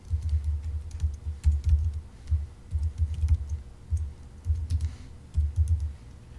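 Keystrokes on a computer keyboard as a Unix chmod command is entered, a steady run of soft close clicks in irregular clusters with brief pauses and no speech.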